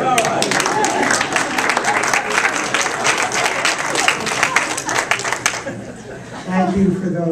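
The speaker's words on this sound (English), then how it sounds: "PP55, cheer for Chet." Audience cheers and applauds at an anniversary celebration: dense, sustained clapping with scattered whoops for several seconds, then tapering off as a voice begins to speak near the end.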